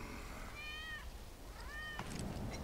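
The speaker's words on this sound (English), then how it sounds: "That's Wedge's cat." Two clear, close meows from a cat in the video game Final Fantasy VII Remake, the second slightly shorter, followed by a few soft clicks and rustles from the game.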